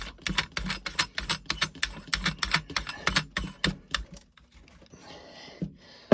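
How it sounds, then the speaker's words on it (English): A G-Force GF99-DLX torque wrench ratcheting as a fitting is tightened, a fast run of close, crisp mechanical clicks for about four seconds, then near quiet with faint handling noise and a sharp knock at the end. "You can hear it ratchet, and then that's all the way on"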